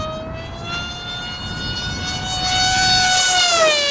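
A Grayson Hobby Monster Jet RC plane makes a full throttle pass, its loud whining engine tone with strong harmonics rising and growing louder as it approaches, then bending in pitch as it goes by, with no talk.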